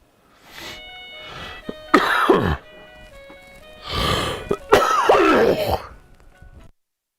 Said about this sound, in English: Did I just cough that up in your ears though?